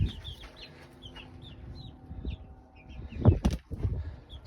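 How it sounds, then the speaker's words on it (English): Chickens in a backyard hen house clucking and chirping in short, scattered calls, fairly close and moderately loud, with some rustling and handling noises toward the end. "Here's all the chickens."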